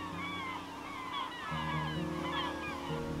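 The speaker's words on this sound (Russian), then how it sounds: "Самые многочисленные здесь – тихоокеанские чайки и маевки." Pacific gulls and kittiwakes calling at a seabird colony on the Sea of Okhotsk, a dense, overlapping chorus of cries over a steady low hum of background noise.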